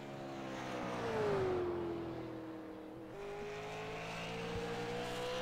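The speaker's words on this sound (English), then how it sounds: "Off turn number 4 as he crosses the start-finish line, Derek Robinson" A Super Late Model race car on a qualifying lap at Five Flags Speedway, its engine note swelling and then easing as it comes off the final turn, a faint and fairly distant tone held steadily.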